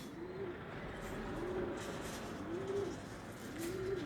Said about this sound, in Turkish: E, şimdi kuşları göstereyim.